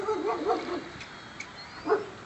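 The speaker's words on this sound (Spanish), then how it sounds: "Perros." Dogs bark and yip in the distance, a few scattered calls over steady outdoor background noise.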